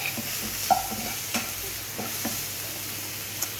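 Onion and garlic sizzling in oil in a pan while being stirred, a soft, steady fry broken by a few sharp scrapes and clinks of the spoon, close and quiet with no talk.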